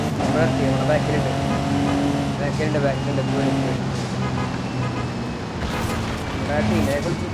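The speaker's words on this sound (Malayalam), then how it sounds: "ട്രക്ക് വരുന്നുണ്ട് കൈ. നമ്മുടെ ബാക്കിലുണ്ട്." Heavy truck engine rumbling steadily behind a player's vehicle in the Forza Horizon 5 racing game, a continuous loud motor drone with road noise, accompanied by voices talking over it.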